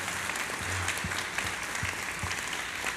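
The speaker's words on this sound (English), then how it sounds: "let's get a round of applause for Bradley Hart and Garrett Graff" A crowd applauds at a history lecture with a steady, full patter of many hands clapping, consistent throughout with no voices over it.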